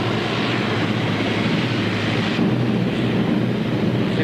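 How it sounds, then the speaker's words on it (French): Droning roar of a B-25 bomber's piston engines heard from inside the aircraft in flight, a steady loud broadband rumble with buffeting wind and no pauses. "C'est pas tous les jours que l'on a la chance de piloter un B-25."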